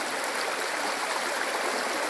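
Suối Nhiệm, a mountain stream in Hà Giang, flows as a steady, close rush of water with no pauses or voices.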